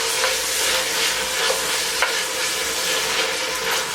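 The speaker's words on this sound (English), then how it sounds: "I'm going to go ahead and get these sauteed here until the onions are translucent and the peppers are soft." Jalapeños, onions and green peppers saute in a pan, a loud continuous sizzle with occasional soft stirring scrapes, close up and with no one talking.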